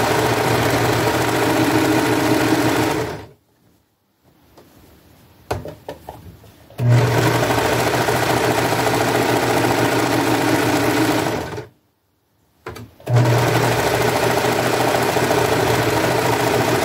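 A sewing machine stitches a seam on an upcycled men's shirt, running in steady loud bursts with two short pauses where the machine stops briefly before starting again.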